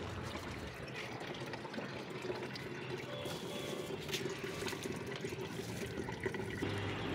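Fungicide sprayed onto a potted lime tree makes a continuous soft hiss of liquid spray, fairly faint and steady, with occasional small knocks and rustles nearby.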